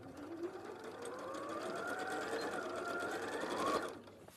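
A sewing machine stitches continuously, its whirring motor rising gradually in pitch as it speeds up, then stopping near the end; close, steady and mechanical, with no voices over it.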